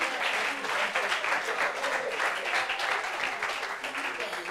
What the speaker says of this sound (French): Applaudissements pour lui,